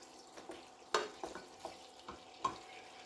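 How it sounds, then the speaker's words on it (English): Onions sweating in a pan for pigeon soup, a faint soft sizzle with intermittent scraping stirs and occasional light clatter, quiet and close with no talking. "Just sweat our onion down so they don't burn."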